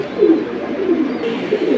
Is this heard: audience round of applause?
no